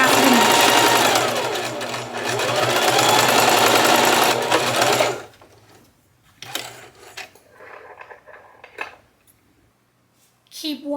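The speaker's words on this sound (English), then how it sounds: "I'm going to sew it, back stitch, 1/2 of an inch." A sewing machine runs loud and steady for about five seconds while back-stitching the neck band seam of a t-shirt, then stops, followed by quieter handling clicks and rustles.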